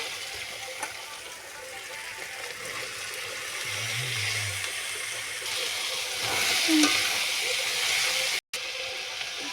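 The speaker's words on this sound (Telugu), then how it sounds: "మూడు టమాటాలు వేసుకోండి కొంచెం మగ్గాలి ఐదు నిమిషాలు" Tomatoes and gokarakaya (cluster beans) simmer in a pan, a soft, continuous sizzling hiss that swells slightly midway and briefly drops out near the end.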